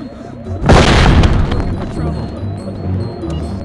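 A flashbang grenade goes off in the game SWAT 4, a sudden loud boom and burst that decays into a rumbling tail, heard close under ongoing game sounds and people talking.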